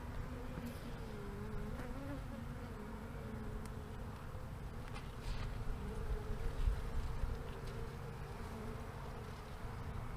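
Honey bees in an open hive fill the air with a dense, steady buzzing, close and continuous, with small bumps and handling noises now and then.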